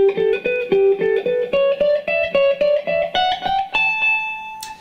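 Fast alternate-picked electric guitar notes rattle off in a tight, even stream, a repeating phrase climbing an octave higher, with a clean, slightly driven tone and no talking.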